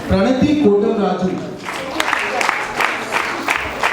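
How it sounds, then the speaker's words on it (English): Someone speaks at an awards ceremony, then the audience breaks into a steady round of applause that carries on to the end of the clip. "Give Pranati a big hand."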